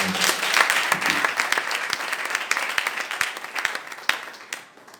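A church congregation breaks into dense, sustained applause and clapping that fills the room, with sharp individual claps standing out over a steady wash, then tapers off near the end.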